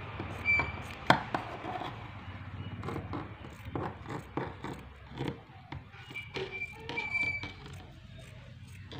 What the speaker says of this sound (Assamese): মই এতিয়া বেল্টটো কাটি দিম এনেদৰে